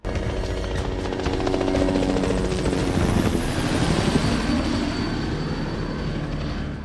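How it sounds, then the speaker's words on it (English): Helicopter flying in a TV drama, its steady rotor thump and engine roar loud and continuous throughout, swelling slightly in the middle with no talk over it. "There's a chopper."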